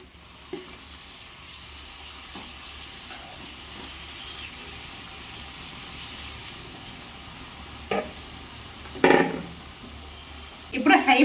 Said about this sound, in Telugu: ఇప్పుడు మ్యారినేట్ చేసిన ప్రాన్స్ ఉన్నాయి కదండి ఇప్పుడు కొంచెంగా ఫ్రై చేసుకోవాలి